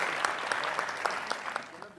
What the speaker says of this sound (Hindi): एक बार और जोरदार तालियां डॉक्टर देवेंद्र दीपक जी के लिए